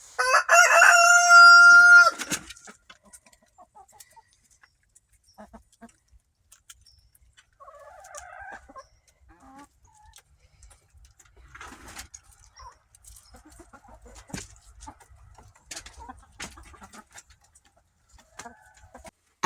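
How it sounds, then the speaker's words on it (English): A rooster crows loudly and close by at the start, with scattered soft clucks and scratchy movement from chickens in a backyard coop continuing faintly afterward as winter storm preparations go on. "Hello, pretty chickens."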